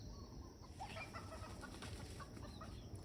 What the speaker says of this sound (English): You can hear the chicken down there.